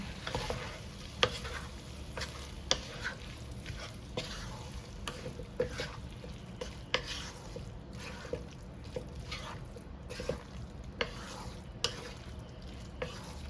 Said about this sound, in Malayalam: ഇതെല്ലാം കൂടി ചേർത്ത് ഒന്നുകൂടി നന്നായിട്ട് മിക്സ് ചെയ്ത് കൊടുക്കുക